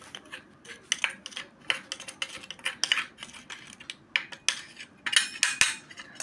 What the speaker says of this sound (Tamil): நல்லா சேர்த்து நல்லா மிக்ஸ் பண்ணிக்கலாம்